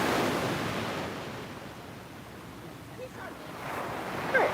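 Ocean surf rolls onto a beach in the morning, a steady broad wash with some wind noise, heard alone at moderate volume.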